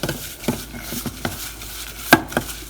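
Turmeric powder and ginger garlic paste being stirred into a thick shrimp marinade in a bowl, a series of soft scraping strokes and light clinks of a spoon against the dish, close and moderately quiet, with one sharper knock near the end.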